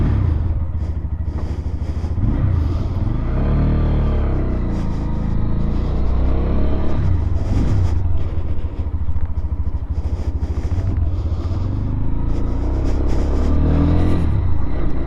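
Lifan KPM 200 motorcycle on its first break-in ride, a steady low engine rumble with gear-change dips and rising revs running the whole way, close and loud, mixed with road and wind noise.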